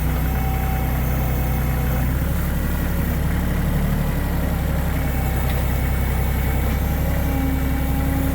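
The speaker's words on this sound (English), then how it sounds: "holding the tractor and running the grapple with the other hand" A tractor engine idling while a grapple is worked, a loud, steady low throbbing drone with faint vibration and no talking.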